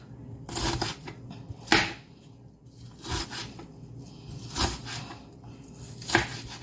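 A knife cuts up fish for Jamaican brown stew, a series of about six irregular chopping strokes against a board, close and fairly crisp with quiet pauses between them.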